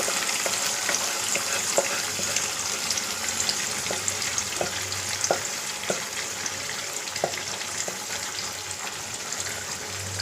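Food frying in coconut oil in a pan gives a steady, close sizzle with scattered pops and crackles throughout, a low hum beneath, and no talking.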